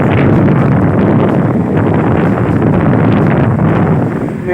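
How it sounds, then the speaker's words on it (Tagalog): Strong wind buffets the microphone on an island shore, a loud continuous low roar that swells and dips across the whole stretch, with no voices over it. "Grabe, lakas ng hangin dito."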